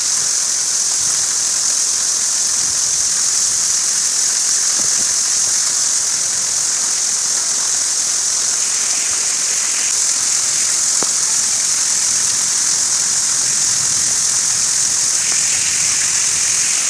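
Heavy rain pours down without a break, a dense, even hiss that stays loud and close throughout, with no voices.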